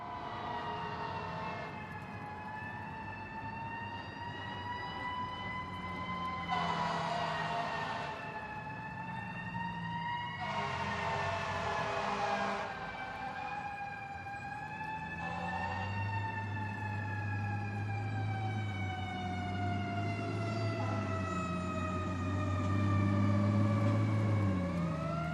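Electronic siren from a Dickie Toys Fireman Sam fire rescue centre playset, a looping wail that rises and falls, with bursts of a higher-pitched pattern and a low hum building near the end, played steadily at moderate volume with no talking.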